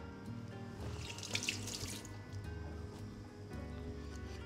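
Tap water runs steadily into a container holding a homemade vegetable stock cube, making a continuous close splashing and gurgling flow.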